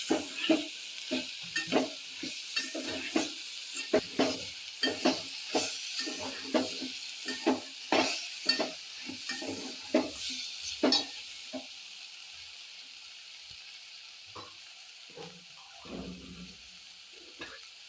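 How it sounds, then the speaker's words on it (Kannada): Chopped okra fries in a pan while a spoon stirs it, producing a rhythmic series of close scraping knocks over a steady sizzle that fade out toward the end. "ನಂತರ ಹೆಚ್ಚಿದ ಬೆಂಡೆಕಾಯಿಯನ್ನು ಕ್ಲೀನಾಗಿ ಹುರಿದು"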